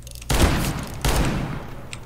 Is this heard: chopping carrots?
no